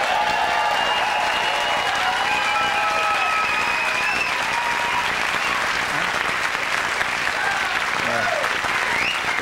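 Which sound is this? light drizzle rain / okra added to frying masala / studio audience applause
studio audience applause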